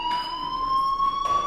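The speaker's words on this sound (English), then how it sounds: "Hey, do you hear that fire alarm?" A fire alarm in the Life is Strange video game rings with a steady, loud, continuous electronic tone, with faint background noise and no talk.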